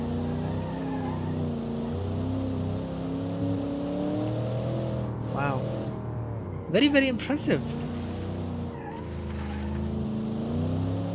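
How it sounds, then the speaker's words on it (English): Beefy V8 car engine in a racing video game revving steadily throughout, with brief tyre skids midway, under a voice talking over it. "The engine sounds really, really beefy and really nice. I love V8s."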